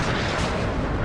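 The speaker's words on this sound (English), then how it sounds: "Oh, that artillery, it's going to be pretty close." Artillery fire in the video game WARNO, a continuous heavy roar of distant barrage blasts merging into a steady, loud rumble with no clear gaps.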